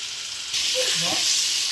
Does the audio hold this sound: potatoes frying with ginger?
yes